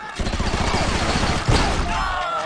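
Shotgun fire in the shooter game Conduit 2: rapid, overlapping blasts and clattering impacts pack the whole stretch, with one sharper, louder shot near the middle.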